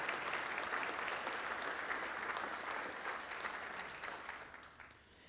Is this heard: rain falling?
no